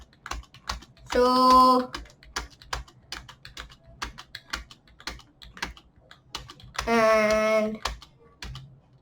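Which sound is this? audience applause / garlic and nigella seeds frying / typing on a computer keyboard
typing on a computer keyboard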